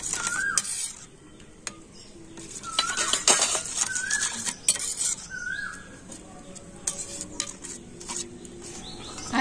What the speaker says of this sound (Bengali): তো এখন সমস্ত মশলা আর লবণটা খুব ভালো করে মিশিয়ে নিচ্ছি।